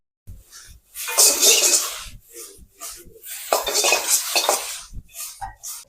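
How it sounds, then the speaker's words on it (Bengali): Carrot, capsicum, onion, cabbage and beans stir-fried for egg hakka chowmein, with loud bursts of metal scraping and tossing in a pan broken by short pauses, a light sizzle underneath. "তারপর কেটে রাখা গাজর, ক্যাপসিকাম, অনিয়ন, ক্যাবেজ এবং বিনস দিয়ে দেবো। তারপর ভালো করে এটাকে ফ্রাই করে নেবো।"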